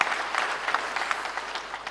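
An audience at a televised mugham contest claps for a jury member, a full, even burst of many hands that runs steadily and tapers slightly near the end, with nobody talking.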